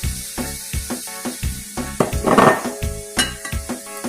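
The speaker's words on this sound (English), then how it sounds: "what I want to do is I want to throw in the green onions" Green onions tossed into a hot oiled pan over high heat, with a run of sharp metallic clanks from pan and utensil and a brief burst of sizzling midway, close and loud.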